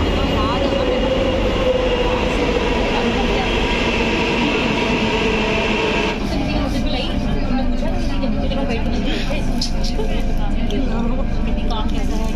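A metro train rumbles steadily at a station platform, loud and continuous with a shift in tone midway as it moves, while people talk over it.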